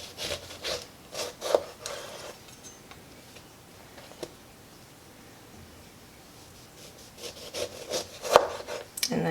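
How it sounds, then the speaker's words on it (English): A sharp knife cuts a lemon into slices on a board: bursts of short scraping, rasping cuts at the start and end with a quieter pause between, close and alone. "So I'm going to just cut it down the center."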